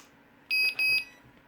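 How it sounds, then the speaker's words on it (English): An RC car sound module chirps two quick, bright electronic beeps in a row to signal it is ready, clear and close over a quiet background. "So when you hear 2 beeps, that means it's ready."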